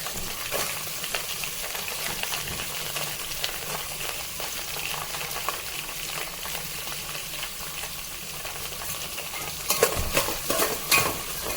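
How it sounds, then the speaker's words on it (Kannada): Onions, cumin and chillies sizzle in hot tempering oil for upma, a continuous frying hiss broken by spoon scrapes and stirring clatter, with a louder burst of scraping near the end. "ಸೊ ಈಗ ಒಗ್ಗರಣೆಗೆ ಹಾಕ್ತಾ ಇದ್ದೀನಿ"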